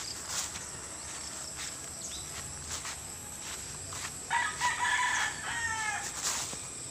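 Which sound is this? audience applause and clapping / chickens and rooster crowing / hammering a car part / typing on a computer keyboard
chickens and rooster crowing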